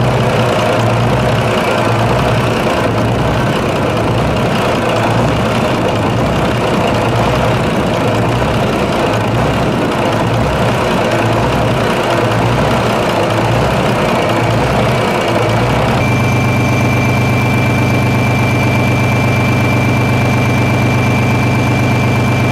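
A diesel locomotive engine built by SACM, rated around 1,000 to 1,500 horsepower, runs steadily and loudly with a low throbbing idle, changing to a smoother hum partway through, with no talking.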